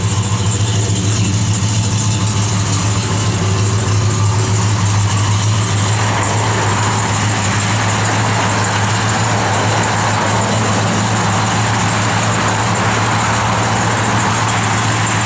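A 1968 Dodge Coronet R/T idling, a loud steady low engine rumble with constant drone throughout and no speech.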